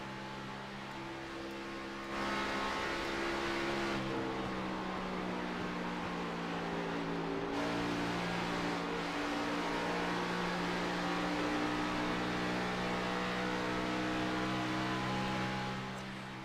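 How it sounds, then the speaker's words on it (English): Onboard engine of the number 84 car in a racing video game at Las Vegas, its steady droning tone swelling and easing as the throttle is feathered and pressed back on, continuous and loud with no talk. "Listen in as he feathers that throttle, getting back to the gas"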